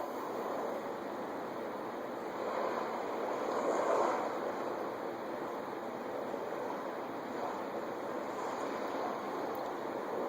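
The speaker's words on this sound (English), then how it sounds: "Sound of the waves in the background lapping on the beach." Ocean waves lap steadily on a sunny beach, a continuous soft wash of surf with gentle swells rising and falling, moderately close with no voices.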